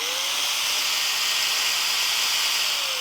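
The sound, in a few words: angle grinder switched on and spinning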